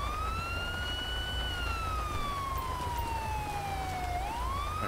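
Police car siren in the video game GTA 5 during a rainy night patrol in Los Santos, a steady wailing tone sweeping slowly down then jumping back up, heard alone over a constant low rumble of rain and engine.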